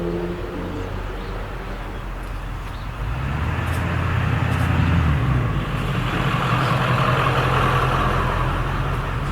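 Car engine cruising in sixth gear at about 65 mph and roughly 2,400 RPM, a steady low drone with road and wind noise that grows louder after the first few seconds, with no talk.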